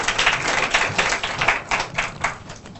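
Audience applause after a technology presentation at a Holiday Inn venue, a dense, steady clatter of many hands with a few uneven surges, close and fairly loud, with no voices over it.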